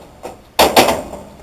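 The door of a Vulcan three-deck commercial pizza oven opens and then closes, making two close metallic clunks, with a faint knock just before them.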